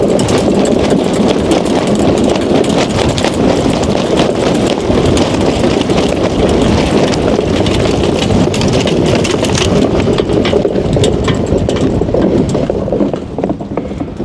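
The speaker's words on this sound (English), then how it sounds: "Oh, that's way too much wind for a DN." Strong wind roars across a frozen Wisconsin lake during iceboating, too much wind for a DN iceboat; a loud, steady, broadband rush with gusty buffeting fills the whole stretch and eases slightly near the end, with no voices.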